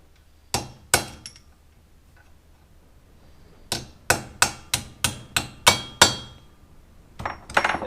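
Sharp metallic hammer blows strike a punch against a Range Rover L322 propshaft bearing: two hits, a pause, then a quick run of about eight evenly spaced strikes and a few more, close and loud.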